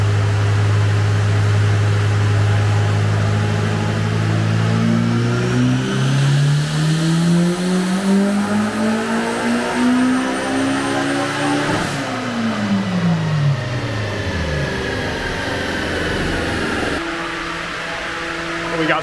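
Turbocharged Honda S2000 engine on a dyno, revving steadily up through the range in a long loud pull before lifting off, with a second climb after; the note stays dominant and continuous throughout.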